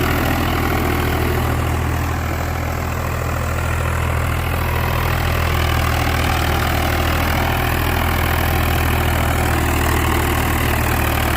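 A Swaraj 855 tractor fitted with new tyres runs steadily at idle, a loud continuous diesel drone with a low, even rumble throughout and no talking.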